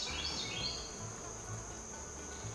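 A beehive hums with honey bees in a bee barn, a steady close buzz with a few higher whining passes of single bees near the start, continuous and fairly quiet, with no talking.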